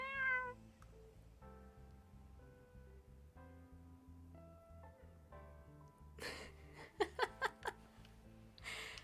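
A person imitates a cat, giving a series of convincing meows, quiet at first, then a burst of sharper, louder mewing calls near the end, close to the mic with a faint laugh.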